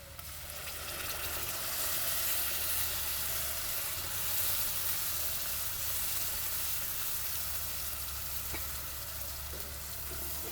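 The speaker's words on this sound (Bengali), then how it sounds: "খুব ভালো করে মশলাটা একদম কষাতে হবে আর সাথে দিয়ে দিব এই যে আমার ব্লেন্ড করা মশলাটা" Blended masala sizzles and fries in a pan for alu ghati, a continuous hiss with faint stirring scrapes and occasional clicks, steady and close throughout.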